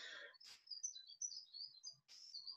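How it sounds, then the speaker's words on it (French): A small bird sings outdoors in a quiet setting: a string of thin, high chirps and twittering notes, faint and somewhat distant, with short pauses between phrases. "Juste à ce moment-là, il y a un petit oiseau qui chante."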